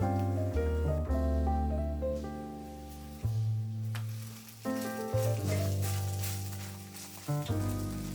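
Turkish garlic flatbread cooks in an oiled pan, giving a soft sizzle mostly buried beneath loud, sustained background music with changing notes.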